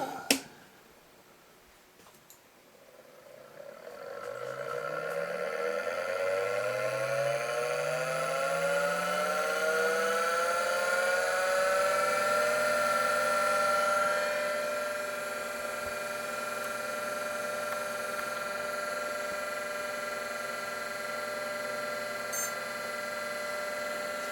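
A Shugart ST506 5.25-inch hard drive on an IBM XT's Xebec controller powers on with a click, its motor whining upward in pitch as the platters spin up, then settling into a steady high hum.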